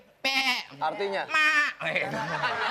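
A voice imitates a goat's bleat, giving a few wavering, nasal bleats in quick succession, mixed with talk and laughter in a lively studio setting.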